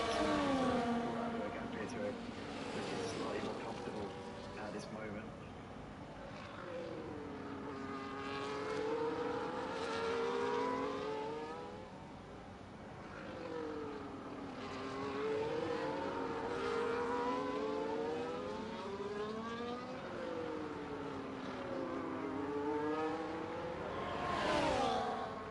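F1 racing cars lapping the Hungary circuit in the F1 24 game, engines rising and falling in repeated pitch sweeps as cars pass, heard steadily beneath a commentator's voice.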